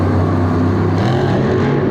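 Monster Jam truck Avenger revving hard before launching into the air, a loud, continuous throaty engine roar filling the arena throughout.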